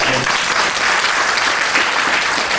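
Loud, close audience applause at a church service: thick, continuous clapping from a full room, with no speech over it.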